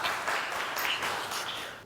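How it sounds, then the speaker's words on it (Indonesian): Brief, steady audience applause at an education event, a continuous wash of clapping that tapers off at the end. "Tepuk tangan dulu dong."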